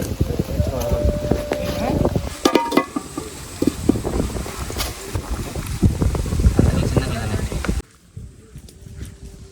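Strong gusting wind buffets the microphone with rumbling roar and rustling, steady for most of the clip before dropping away near the end.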